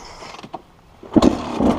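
A car rolls in first gear: a quiet mechanical stretch, then the engine swells to a low, louder hum for the last half, heard close, with no talking.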